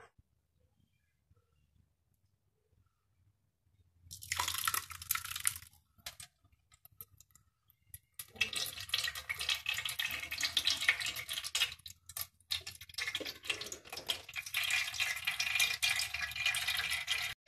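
Arrowroot pulp mixed with water drains and trickles through a cloth, first a short splash and then a steady close pour that stops and starts, with no talk.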